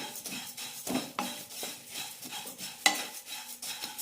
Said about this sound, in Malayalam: ആദ്യം അവിൽ വറുത്തെടുക്കാം